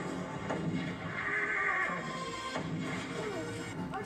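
A horse neighs loudly in a 1993 western film scene, a shrill whinny rising in the middle, with hoof clip-clops and faint background sounds around it.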